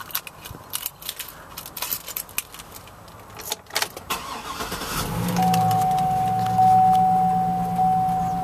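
A white 2005 Cadillac EXT pickup starting up: keys jangle and handling noises first, then the engine cranks and settles into a steady, close idle with a faint whine above it.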